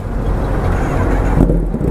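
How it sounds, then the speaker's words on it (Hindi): A KTM RC 125 or Kawasaki ZX10R motorcycle engine idles close by, a loud steady low rumble with a slight surge near the end. "देखता हूँ भाई कैसे ऑन होती है गाड़ी"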